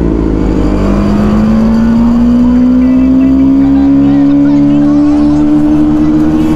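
A TVS Apache RTR 310 motorcycle accelerates hard while held in one gear. Its loud, close engine note climbs steadily in pitch as the revs rise, without a break.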